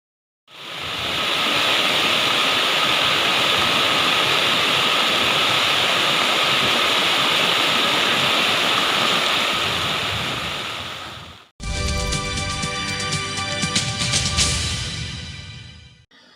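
Floodwater rushing through a swollen drain after heavy rain in Balaghat district: a loud, dense, steady roar of water for about eleven seconds, then a brief break before a noisier, cluttered segment.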